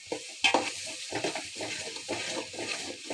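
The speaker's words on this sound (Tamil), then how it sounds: "இப்படி ரொட்டேட் மோடில் நல்லா வதக்கிட்டே இருந்தீங்கன்னா" Ingredients for mutton biryani are sautéed in oil, a quiet sizzle broken by repeated scraping stirs of a spatula in the pan, close and rhythmic, with no talking.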